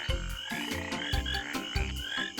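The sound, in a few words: tree frog croaking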